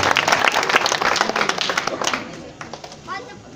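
Crowd in Nagaur applauds to welcome newly elected council chairperson and members, a dense burst of clapping that gradually thins and fades toward the end.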